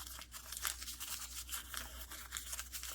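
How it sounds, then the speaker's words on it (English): An altered playing card is crumpled by hand during crafting, giving a continuous close crinkling and crackling with rapid irregular bursts, fairly quiet and with no talk. "I think I'll crumple it."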